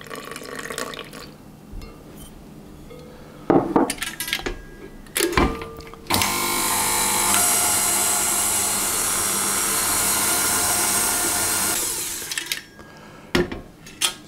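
An electric mixer whirs steadily for several seconds as it blends lamington batter with milk, preceded by a few clanks and knocks of bowl and utensils, then stops.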